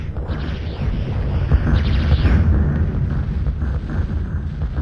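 Rocket launcher explosions in a Dune 2 video game match, a dense run of loud booming blasts and bursts that overlap steadily for several seconds with no pauses.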